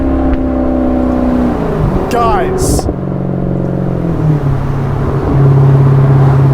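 A 2015 Maserati GranTurismo engine drones steadily from inside the moving car, its pitch climbing toward the end as it accelerates, while a person speaks briefly.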